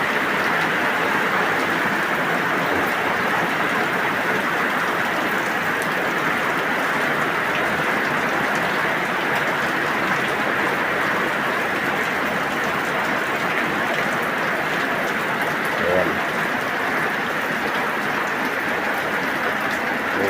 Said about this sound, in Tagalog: Lakas ang ulan dito mga tol.